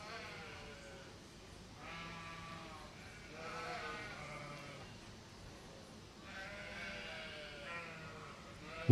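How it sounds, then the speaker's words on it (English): Ewes bleat repeatedly in a sheep show ring during a supreme champion judging, a chorus of overlapping, drawn-out calls at moderate distance with a steady crowd murmur underneath. "Georgiana Springs Isabel Tower, lead your ewe right on around the ring here."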